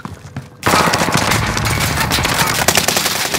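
Sudden, loud, sustained automatic gunfire in Call of Duty: Modern Warfare, a rapid rattling stream of shots that starts abruptly after a brief quiet and keeps going.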